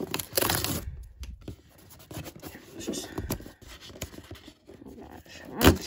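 Tacklebox package from an ice fishing mystery box being torn open by hand, with ripping, scraping and crinkling bursts up close over several seconds and a louder final rip near the end.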